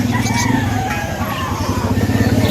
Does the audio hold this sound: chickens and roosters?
yes